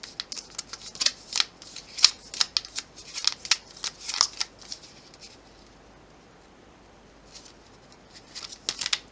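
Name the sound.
tarot cards being shuffled and straightened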